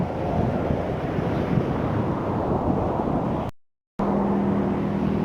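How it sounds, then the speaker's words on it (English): Loud wind blasts into the microphone on the M4 bridge over the Nepean River in Penrith, Sydney, a constant rumbling roar that cuts out abruptly for a moment before returning with faint traffic hum beneath. "It's hard to get any footage up here because it's windy enough as it is"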